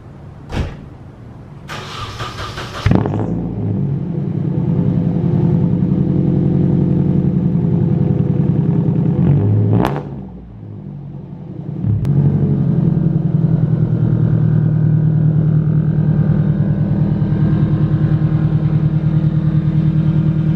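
A 1997 Nissan 240SX S14 Kouki engine is cranked and starts, settling into a steady close-up idle rumble; around the middle it briefly drops before the idle returns at full strength, with sharp clicks near the start.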